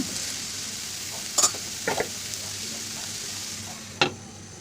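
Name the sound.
stirring frying snake gourd in a pan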